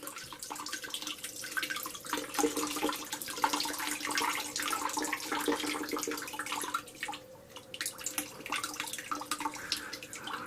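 Water draining and trickling out of a TacLight lantern after submersion, a steady splashy running flow with small drips, continuous and fairly close throughout.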